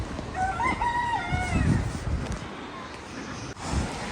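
A bantam hen held upside down on a small farm, with clucking and a rooster-like crow calling out up close, loud at first before fading into softer background noise.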